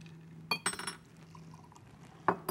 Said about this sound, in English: You can pour that right over.